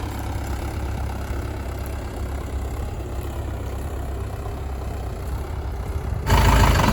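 Mahindra tractor engine idling outdoors, a steady low rumble held throughout, rising abruptly louder near the end as the engine revs.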